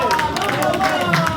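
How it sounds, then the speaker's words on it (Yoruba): Applause for the president at a second founders' anniversary gathering, a crowd clapping steadily and close with chatter and a speaker's voice over it. "Ẹ jẹ́ bá mi pàtẹ́wọ́ fún president dáadáa."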